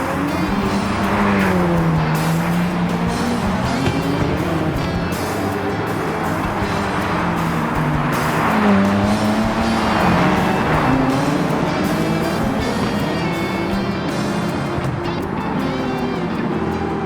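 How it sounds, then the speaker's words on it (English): A Ford Focus Gr.B rally car drives hard on snow, its engine droning loud and steady with rising and falling pitch as it revs through turns, tires hissing beneath for the whole stretch. "The Ford Focus Gr.B doesn't just drive, it charges through the snow like a wild animal,"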